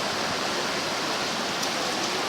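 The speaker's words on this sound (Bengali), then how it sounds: "এখনও বৃষ্টি পড়তেছে, মোবাইলের স্ক্রিনের উপর বৃষ্টি পড়তেছে।" Heavy rain falls at night in Oman, striking close by on a mobile phone's screen as a dense, even, unbroken hiss with no voices.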